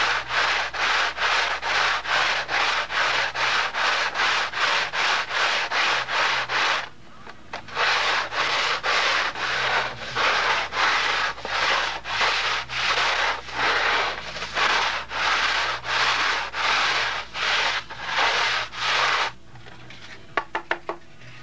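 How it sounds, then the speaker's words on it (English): Steady back-and-forth rasping of sanding on an old abrasive sanding belt glued to a table, building a model airplane wing, rhythmic strokes repeating for about twenty seconds with a couple of short pauses. "having that an old sanding belt glued to the table comes in real handy"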